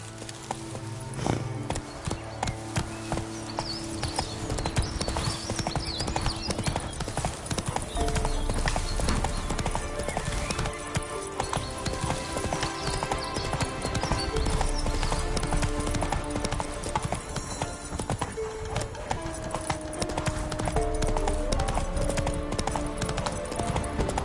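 Horse hooves clip-clopping at a steady gallop in The Witcher 3 on PS5, a continuous rhythmic beat under a full game music score, with an occasional faint whinny.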